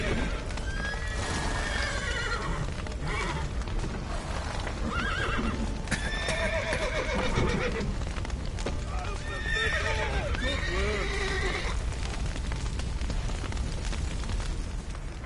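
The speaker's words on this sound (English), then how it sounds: "The horses!" Frightened horses neigh and whinny repeatedly inside a burning barn, with hooves clattering, fire roaring and people shouting over the din.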